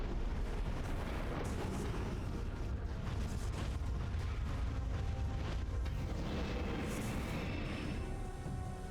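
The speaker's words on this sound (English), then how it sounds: "Missile is clearly reflecting off his feet." Missile shots and explosions roar almost without pause in Metroid Prime 3, a dense, loud wash of blasts and booms that fills the whole stretch.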